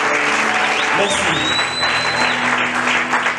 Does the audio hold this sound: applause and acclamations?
yes